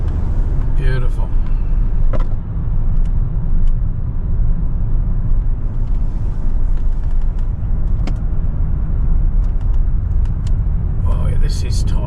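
An average family car with lights on the roof is driven hard around the Shell V-Power Motorsport Park, its engine and road rumble droning steadily from inside the cabin while people talk over it.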